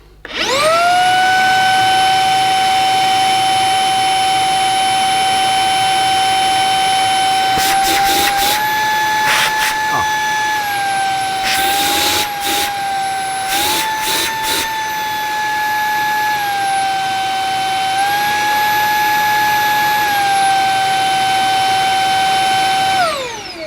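Beldray Roller cordless vacuum cleaner on turbo boost, a loud steady high-pitched whine with strong tonal hum that shifts pitch slightly, broken by a few brief clattering bursts, running the whole time before cutting off.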